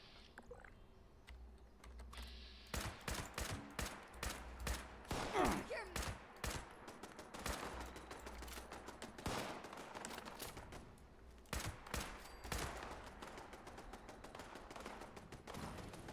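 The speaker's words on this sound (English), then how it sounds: "Somebody else is shooting it out over there, and they've set the place on fire." Bursts of gunfire crackle through a Fallout 76 wasteland while another player shoots it out nearby and a fire burns. Rapid volleys come in uneven clusters, quite faint and somewhat distant, with brief lulls between them.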